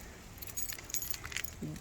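Keys jangle and clink faintly at a door being unlocked, several light metallic rattles scattered over a quiet background with distant traffic.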